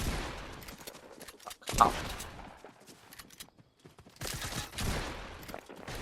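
Gunshots in Fortnite, a few sharp cracks separated by quieter stretches, then a louder cluster of shots near the end, with a brief exclamation from a player.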